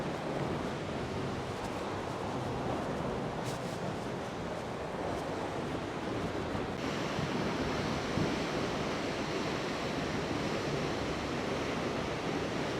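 A waterfall heard from behind the falling water gives a dense, constant roar of crashing water, loud and steady from start to finish with no voices.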